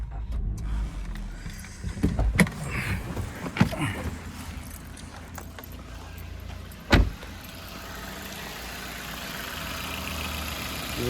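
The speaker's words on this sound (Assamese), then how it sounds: "মই এবাৰ ষ্টাৰ্ট কৰি শুনাই দিওঁ আপোনালোকক ইঞ্জিনৰ চাউণ্ডটো" A 2018 Maruti Suzuki Ignis Zeta petrol hatchback started with its push button: a few clicks and thumps inside the cabin, then a sharp starter crank and a steady, quiet idle settling in.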